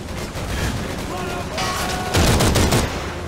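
MG42 machine gun fire in the Call of Duty 3 Falaise Road battle, bursts of rapid gunfire with heavy impacts growing louder toward the end, dense and close amid battlefield noise.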